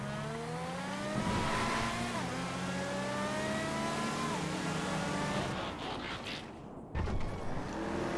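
Open-wheel race car engines in Project Homecoming racing game, a loud climbing whine with stepped gear-shift sweeps and several engines overlapping, fading slightly before a sharp burst near the end.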